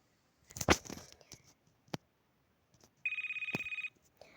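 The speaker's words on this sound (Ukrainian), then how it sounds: "до тебе хтось дзвонить, на візьми" A mobile phone rings with an incoming call, a steady electronic ringtone of rapid repeating pulses lasting under a second, heard after scattered household knocks and rustles in a room.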